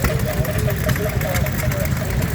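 A McCormick Dairy 1.5 horsepower stationary engine drives a grain mill at a plough day, a steady rhythmic chugging thump, close and continuous, with people talking nearby.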